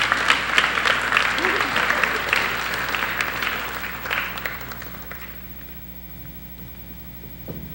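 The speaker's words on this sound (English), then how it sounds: "give them another round of applause" At a 2018 high school scholarship awards ceremony, the audience applauds steadily for about five seconds, then the clapping dies away and leaves a low room hum.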